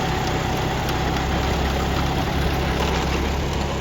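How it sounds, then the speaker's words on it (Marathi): A John Deere 5210 tractor engine runs a rotavator at a steady, constant, heavy drone, loud and near, with no speech over it. "रोटावेटर चाललाय"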